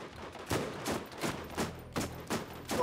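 Gunfire in Borderlands rings out as a steady series of about six loud, evenly spaced shots roughly half a second apart, with no talking.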